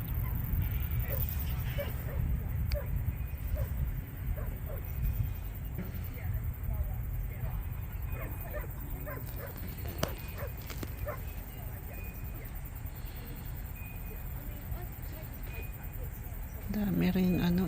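A Labrador at the beach barks and whimpers in short bursts over heavy, rumbling wind noise, with people talking nearby.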